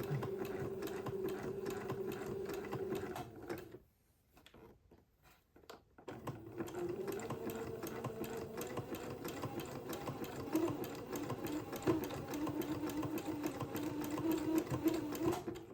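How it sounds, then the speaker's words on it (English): Sewing machine zigzag-stitching entredeaux lace onto a seam, running with a steady mechanical hum and rapid needle rhythm, briefly pausing before resuming and continuing at an even pace, fairly close and quiet. "I've got that entredeaux zigzagged on, and that seam is looking just beautiful"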